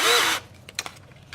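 A power drill fitted with a tail well attachment whirs briefly and loudly, then stops, followed by a few soft clicks and knocks of handling.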